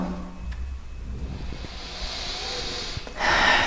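Audible breathing from someone holding a yoga stretch in preparation for the splits, soft steady air over a quiet room, with a louder hissing exhale near the end.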